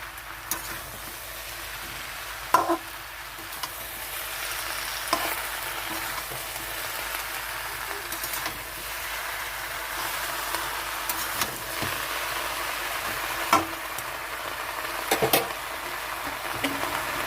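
Malabar spinach greens and stalks fry with a fish head in a pan over a gas flame, giving a steady, close sizzle broken by occasional sharp clicks and clatters from stirring.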